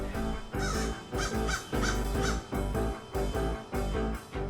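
A group of crows caws harshly and repeatedly while mobbing a kestrel. The loud, close calls come in rapid overlapping bursts.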